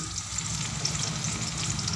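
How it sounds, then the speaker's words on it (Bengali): Roti made from kneaded wheat dough fries in a pan with a soft, continuous sizzle, faint and close, with no voices. "আটা মেখেছি, রুটি ভাজবো।"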